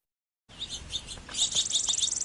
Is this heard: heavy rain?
no